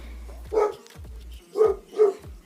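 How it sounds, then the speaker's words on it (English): A dog barks three times, spaced about a second apart, at moderate distance against a quiet background. "Please excuse my dog."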